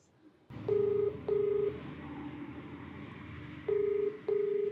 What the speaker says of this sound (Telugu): కాల్ చేస్తానండి.